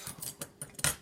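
Scissors cut through a wide blue ribbon in a few quick, close, crisp snips, each a short metallic swish, with the last cut the loudest.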